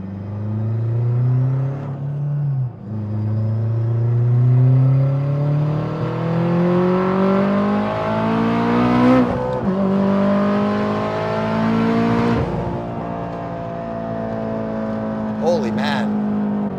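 A turbocharged 8th-generation Honda Civic accelerates hard through the gears, its loud engine note climbing repeatedly in pitch with sharp drops at each shift, and a brief chirp near the end.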